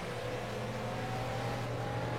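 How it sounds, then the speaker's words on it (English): BMW Z4 GT3 race car in a racing video game, a steady loud engine roar with a sustained low drone held throughout, no talk over it. "You can hear that really loud roar. That is the sound of a BMW Z4 GT3 car."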